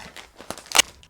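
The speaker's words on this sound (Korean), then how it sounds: "마지막 비닐 하나를 개봉을 해보겠습니다" A plastic bag from a DJI Inspire 3 drone package crinkles and tears open in a few sharp, close rustles, ending in one louder rip.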